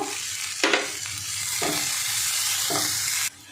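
Onions with turmeric and salt frying in a pan, a steady close sizzle broken by three scraping stirs before the hiss suddenly drops away.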